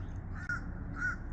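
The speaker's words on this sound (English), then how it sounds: "Well, the birds are out" Crows cawing outdoors, two distinct harsh caws about half a second apart, moderately distant and fairly faint against a quiet background.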